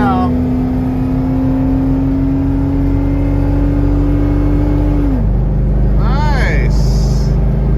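An old Ford Econoline van engine holds a steady drone under acceleration, then drops pitch as the transmission downshifts, with a voice talking over it toward the end.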